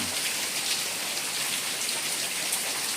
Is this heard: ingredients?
no